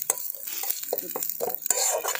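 Chopped neem leaves fry in hot oil while a spatula stirs and scrapes them around the pan, making a quick series of clinks and scratches over a soft hiss.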